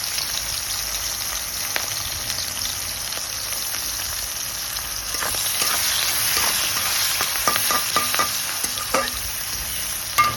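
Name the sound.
chopped onion and green chillies frying in oil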